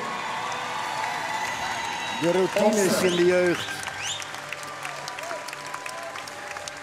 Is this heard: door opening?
no